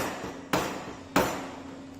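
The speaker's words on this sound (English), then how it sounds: "So again with the help of chisel and mallet the operation is performed." Two sharp knocks of a wooden mallet striking a chisel into a wooden workpiece in a carpentry shop, evenly spaced and close, each ringing briefly over a low steady hum.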